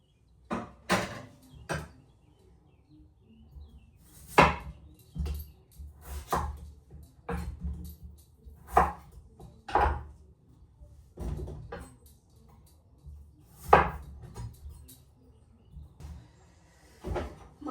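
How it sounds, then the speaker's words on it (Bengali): Potatoes being cut with a knife for a fish dish, heard as sharp, separate knocks on a board at an irregular pace, close by and with no talking. "মাছে শুধু আলুই দিমু, কেটে নিলাম।"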